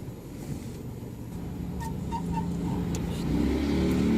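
A car engine hums and gradually rises in pitch and loudness as it accelerates during a driving lesson on the streets of Ankara, with faint wind noise.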